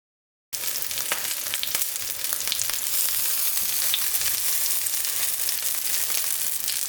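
Spicy Mexican corn fritters fry in hot canola oil in a pan, a continuous close crackling sizzle with small pops scattered through it, no talking.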